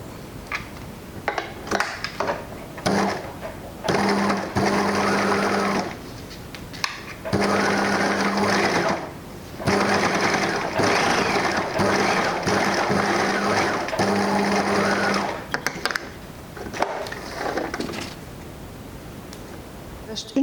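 A sewing machine overcasts the edge of a fabric barrier mask in several loud, whirring bursts separated by short pauses, nearby and alone.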